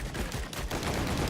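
Rapid bursts of explosions and gunfire-like blasts from stacked gas canister items in Risk of Rain 2, dense and continuous in the game's combat mix, loud and alone without speech.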